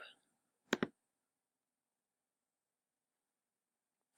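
A computer mouse clicks on a web page sign-up button: a quick pair of crisp clicks close together, then a single click near the end, with near silence between them.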